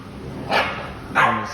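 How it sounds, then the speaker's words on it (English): Young bully breed puppies bark twice, short sharp yaps about half a second apart, close and loud with no talk. "two nice little guard dogs for the house"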